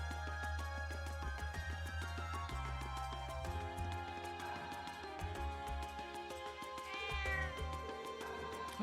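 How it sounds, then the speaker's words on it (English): A cat meowing in the video game Trails of Cold Steel, its cries rising over steady, layered game music that plays throughout. "Oh, there's a cat."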